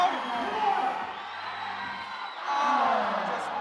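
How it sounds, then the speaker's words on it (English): A crowd at a bouldering competition final cheers and whoops steadily, swelling louder toward the end, while a voice talks over the noise. "The crowd is getting loud."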